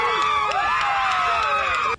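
A crowd gathered outside the court after the George Floyd verdict cheers loudly and continuously, with whoops, shouts and scattered claps, before cutting off abruptly.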